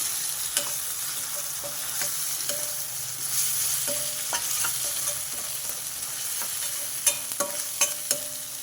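Onions with turmeric and ginger-garlic paste fry in a pan for palak paneer, with a steady sizzle and repeated light clicks and scrapes from a spoon stirring, close by and with no talking.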